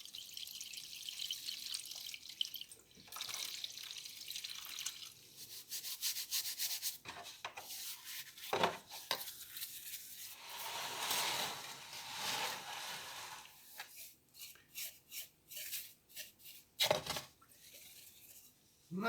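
Outboard motor cylinder heads from an OMC 235 are scrubbed with solvent in an improvised tub, giving irregular wet rubbing and brushing strokes with short pauses and splashy drips, close and moderately loud.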